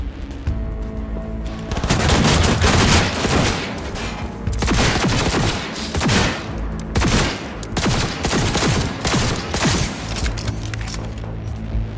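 Close-range gunfire in Cyberpunk 2077, loud dense bursts of rapid shots and booming impacts that run almost continuously, with brief gaps between volleys.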